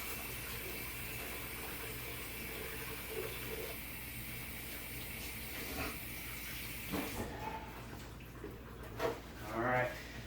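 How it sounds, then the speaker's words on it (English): Running tap water splashes over hands being rinsed in a home kitchen while preparing oven-baked chicken, a steady broadband hiss for most of the stretch that breaks off near the end into a few faint clinks and movements. "let me rinse my hands. Wash them up good."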